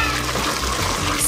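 Water splashes and pours heavily over a person as a cold dousing in a challenge game, a dense continuous gush of liquid lasting about a second.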